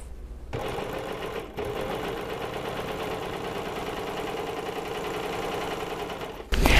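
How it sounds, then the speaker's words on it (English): A Baby Lock Accolade 4-thread serger runs steadily with a fast, even mechanical whir that fills nearly seven seconds, briefly pausing near the start and picking up louder at the end. "So let's just serge for a little bit with our 4-thread"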